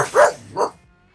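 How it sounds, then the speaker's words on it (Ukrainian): A dog gives two quick, close barks in succession indoors, then falls quiet, with no speech in between. "Якщо ти будеш гавкати, я не зможу його записати."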